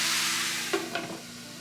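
Pork for curry stir-fries in a pan under a continuous soft sizzle, with two brief scraping clinks of the utensil close by.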